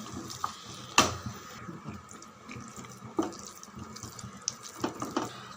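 Water is poured into a mixer grinder jar while making chana gravy, a soft continuous trickle with a few louder splashes and clinks, heard close up with no talking.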